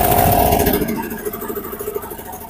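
A small generator engine that runs but gives no electrical output, a loud rough roar at first that settles into a lower, uneven idling chug.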